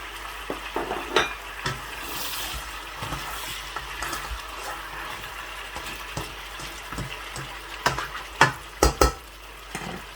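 Tomatoes added to a sizzling kadai of Shinwari karahi, a quiet continuous fry with scattered sharp clinks and scraping taps of a utensil, several louder knocks near the end.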